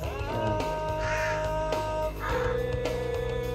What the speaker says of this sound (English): Yeah, some birds, too.